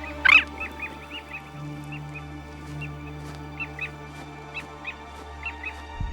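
Jaegers, skua seabirds of the Arctic tundra, give repeated short sharp calls, one loud cry up front followed by a scattered series of fainter yelps over a low steady background hum.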